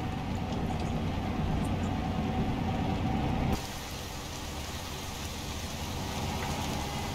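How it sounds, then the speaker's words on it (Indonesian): Steady rain falls in a broad hiss heard from inside a vehicle on a trip from Plymouth to Brest, loud at first and then dropping to a softer, even patter halfway through. "Masih hujan ternyata."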